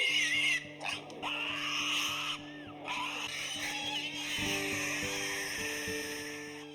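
Pigs at the Grange Fair grunt and squeal among a barn crowd, with layered snorts and high squeals over a steady hum of voices and background music.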